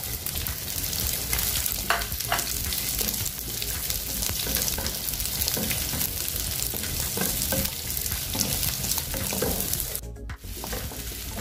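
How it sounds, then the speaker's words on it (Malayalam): Square-cut onion frying in a pan for chilli paneer, a loud continuous sizzle with spatula stirring and scraping running throughout, briefly dipping near the end. "ഉള്ളി നമുക്ക് ഒത്തിരി മൂപ്പിക്കേണ്ട"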